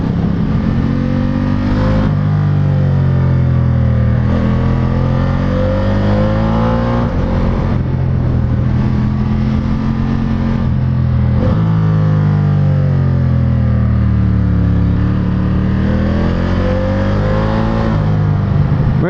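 A Ducati Diavel 1260S roars under hard riding, its engine note climbing and dropping through repeated throttle sweeps and gear changes. The sound is loud, close and continuous, with no talk.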